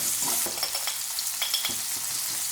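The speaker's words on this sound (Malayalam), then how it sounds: "ചെറിയുള്ളി അതിട്ട് കൊടുക്കാം ഇതൊന്ന് വഴിച്ചെടുക്കാം" Shallots sautéing in a hot pan for a Kerala-style sambar give a steady, close sizzle and crackle, with short scraping stirs breaking through now and then and no voices.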